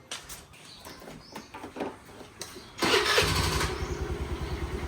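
A scooter engine starts up after a few quiet moments, catching abruptly and settling into a steady, close idle with a rough mid-pitched putter.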